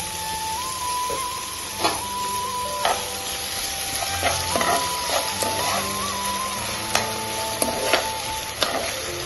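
Onions frying with ginger garlic paste in a pan for paneer tikka masala: continuous close sizzle punctuated by sharp clicks and spatula taps, with a faint steady tone humming in the background.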